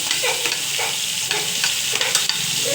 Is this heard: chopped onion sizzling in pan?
yes